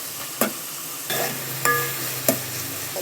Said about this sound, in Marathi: आता परतून घेऊया थोडंसं मऊ होईपर्यंत.